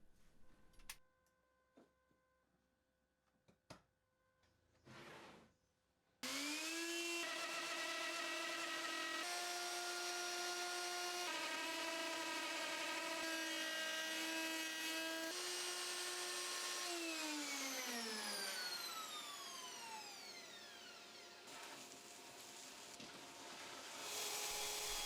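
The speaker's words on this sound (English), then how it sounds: "Now I'm done with the first pass of the router" A wood router cuts a custom keyboard case guided by a melamine template, starting after a few quiet handling knocks and then running loud and steady with a high whine that winds down near the end.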